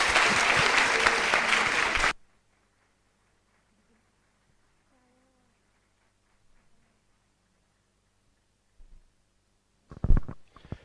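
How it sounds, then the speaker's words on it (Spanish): An audience at a book launch for a work on Mary, Mother of God, breaks into loud, dense applause that stops abruptly after about two seconds, followed by near silence and a brief burst of noise near the end. "Un aplauso, por favor."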